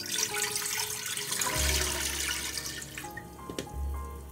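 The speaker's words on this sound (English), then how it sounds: "first we're going to add our 4 cups of water" Four cups of water poured into a cooking pot on a stove, a soft continuous splashing and running flow with low rumbling as the pot fills, faint and close with no talking.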